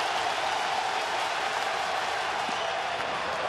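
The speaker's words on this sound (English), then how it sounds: "The crowd to their feet." Baseball stadium crowd rising to its feet and cheering during a Mets at Phillies game, a dense continuous roar of many voices and clapping that holds steady throughout.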